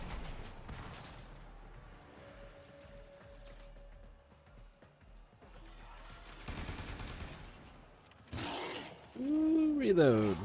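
Weapon reloading in the video game Warframe, a series of mechanical clicks and clacks amid scattered gunfire and game effects, with a voice speaking briefly.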